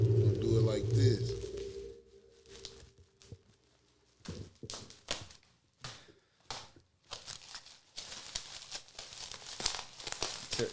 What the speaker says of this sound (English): Just cut the tape parts.